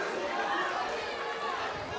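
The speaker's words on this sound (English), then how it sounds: "crowd now cheering for Bia" Crowd cheering and chattering for MMA fighter Bia at a women's LFA bout, a steady broadband roar of many voices sustained throughout at moderate loudness.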